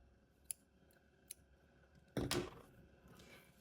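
Scissors snip crochet yarn on a crocheted headband, a few small close clicks followed by one louder, brief cutting crunch, alone in a quiet room.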